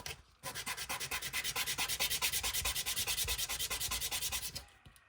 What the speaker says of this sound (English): I'm just sanding that down because it cut a little crooked.